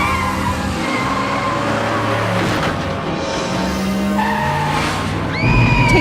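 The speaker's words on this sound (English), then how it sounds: "that episode where she crashes the car with Dawn in it" Tires screech in a long, skidding squeal from a car in a TV episode's crash scene, layered with engine noise and rising pitched tones, ending in a louder low burst.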